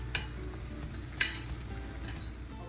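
Broccoli florets and quinoa cook in a pan for stuffed bell peppers, a steady soft sizzle broken by occasional light clinks and scrapes of a utensil stirring.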